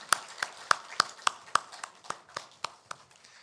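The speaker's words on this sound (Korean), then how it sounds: "그 하나님 앞에 우리 박수를 함께 같이 영광을 드리도록 하겠습니다." Church congregation clapping together during a Sunday worship service: a steady, evenly spaced run of about a dozen claps, fairly faint and with no talking.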